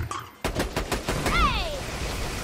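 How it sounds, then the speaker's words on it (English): Enemy gunfire in Borderlands 2: a rapid burst of repeated shots, close and loud, followed by a descending whine-like tone and continuing background battle noise. "now who's shooting at me?"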